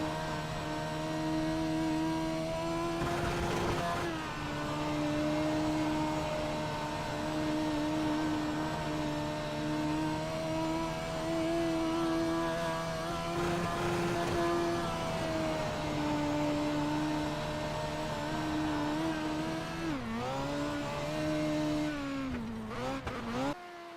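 A midget race car engine in iRacing at Knoxville drones loud and continuous through a qualifying lap, its pitch rising and falling with throttle and dropping sharply before a final rev near the end.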